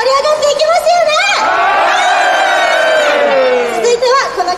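A concert crowd at an idol live show cheers loudly, with rising shouts and whoops swelling and falling in waves, close and energetic.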